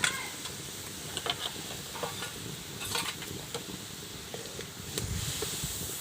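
Crushed dried chili frying in hot oil, with a steady sizzle broken by scraping and stirring clinks of a utensil against the pan, close and fairly quiet, with no talking.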